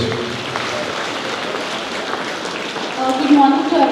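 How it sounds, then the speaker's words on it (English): Students at a school assembly clap for a class topper, a thin, steady patter of many hands heard from a distance, growing somewhat louder near the end as a voice begins to speak. "Clap for her."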